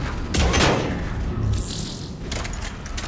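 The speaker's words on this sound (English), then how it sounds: "Now I'm going to snipe guys from there." Sniper rifle fire in a video game: a few sharp, loud cracks with booming tails, spaced about a second or more apart, mixed with other distant shooting and game noise, no talking.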